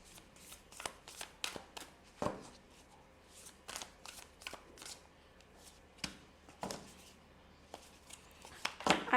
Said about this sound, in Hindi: I have to shuffle it again